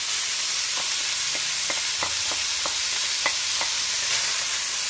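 Chicken, garlic, green onion and chili sizzle steadily in a hot pan, a dense hiss broken by several soft scraping clicks of the spatula as the mix is tossed, with no talking.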